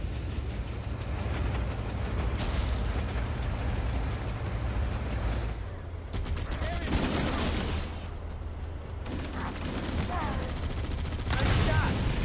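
Main cannon on a vehicle in Halo firing several heavy blasts spaced across a steady engine rumble, the shots loud and close within busy combat noise.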